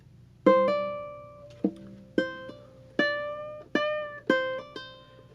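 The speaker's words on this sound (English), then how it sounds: "that was a hammer, followed by the opposite of a hammer, which is a pull-off" Plucked ukulele notes ring out alone, several single plucks with quick hammer-on and pull-off pairs changing pitch without re-picking, clear and close.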